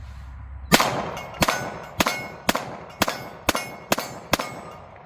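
A Nighthawk Custom 1911 pistol fires eight shots at a steady, controlled pace, each report followed by a ringing clang as the bullet strikes a steel plate target. The shots are loud and evenly spaced, with no talking.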